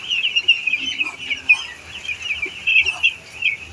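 Chickens cluck in short, scattered bursts in a coop built over a fish pond, over a steady high-pitched buzzing drone, likely insects.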